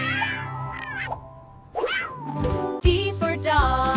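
A cat meows several times, drawn-out and loud, with short pauses between the calls.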